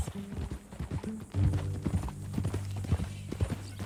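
Horse hooves clip-clop at a steady walking rhythm in the Red Dead Redemption 2 video game, close and distinct, over low rumbling ambience with no talk.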